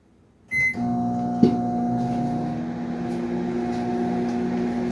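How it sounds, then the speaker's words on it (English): A microwave oven starts up with a short beep and clunk, then settles into a steady, loud electrical hum that runs on unchanged. "If you can hear the microwave in the background"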